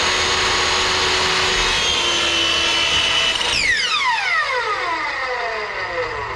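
Miter saw cutting a rabbet into a piece of wood: a loud, steady high-pitched motor whine under load, then the blade spinning down with a falling tone after the cut ends.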